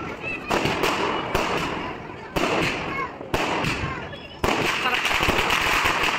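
A 15-shot firework cake fires shot after shot at Diwali, each sharp burst followed by crackling, with excited voices talking over the barrage.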